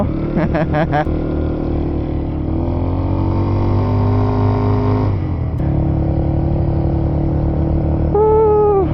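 A Honda ADV 160 scooter engine is revved and held at steady throttle, droning loudly with pitch rising and falling, while voices talk over it near the start and end.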